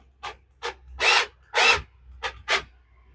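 A power drill pulses as it drives into wood, giving six short whirring bursts, the middle two longer and louder, with silence between.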